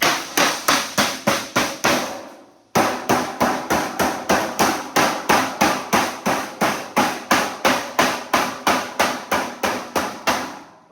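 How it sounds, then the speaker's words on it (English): A hammer pounds a sheet metal seam closed on a 14 by 12 plenum, striking in steady, loud, evenly spaced blows: a quick run of about eight hits, a brief pause, then a long unbroken series of roughly twenty more. "Now we're going to take our hammer and bang it down together."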